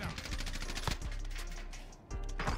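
Gunfire in the video game Warzone sounds as quick rattling bursts and single cracks, mid-distance and fairly loud, mixed with players talking.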